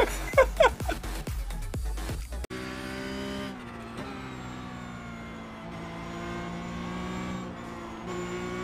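Race car in iRacing driven hard on throttle: sharp, percussive bursts and gear-change revs at first, then a sustained high-pitched engine whine holding steady under load, loud and close.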